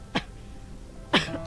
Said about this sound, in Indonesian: Bila batuk mulai mengganggu